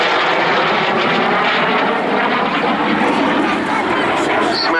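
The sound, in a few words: F-86 Sabre jet final fast fly-past at airshow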